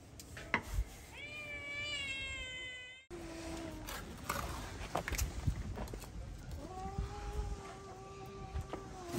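Cat meowing in a rural outdoor setting, several drawn-out harmonic meows, one early and high-pitched, then a lower pair near the end, over background clatter and noise.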